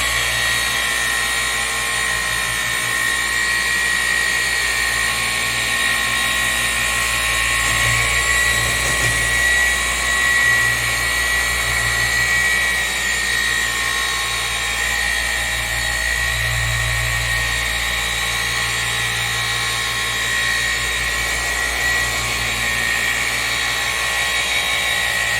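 A Rupes polishing machine with a wool pad runs continuously on a paint surface, a steady high-pitched whine that holds level at close range from start to finish.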